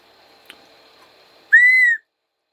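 A single loud, shrill blast from a 3D-printed Wormhole Whistle holding one steady pitch for about half a second, starting sharply after a faint tap and quiet background.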